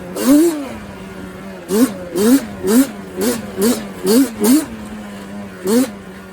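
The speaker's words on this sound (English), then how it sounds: "I know I'm revving the shit out of it" A small ATV (quad) engine idles, then is revved in a series of about eight quick, punchy bursts, each rising and falling sharply, close to the listener.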